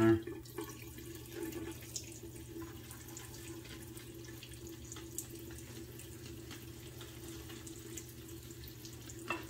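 Steady running water pours from a tap, a continuous hiss with faint splashes and small clicks throughout, during wet shaving preparation with shave cream.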